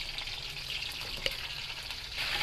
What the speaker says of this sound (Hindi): तो चिकन हम फ्राई कर लेंगे